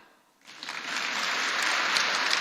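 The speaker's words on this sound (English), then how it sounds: "you can applaud" Applause from an audience at a literary awards ceremony starts abruptly after a brief quiet moment and continues steadily, a dense wash of many hands clapping.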